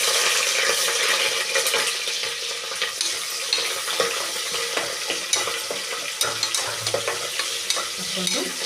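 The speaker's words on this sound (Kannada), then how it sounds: "ಹಾಕ್ಕೊಂಡು ಚೆನ್ನಾಗಿ ಉಳ್ಳಾಗಡ್ಡಿ ಕಂದು ಬಣ್ಣ ಬರುವವರೆಗೂ ಫ್ರೈ ಮಾಡ್ಕೋಬೇಕು." Chopped onion frying in a pan for vegetable pulao, stirred continuously: a loud, dense sizzle close by with frequent scraping strokes of the spoon, no voices.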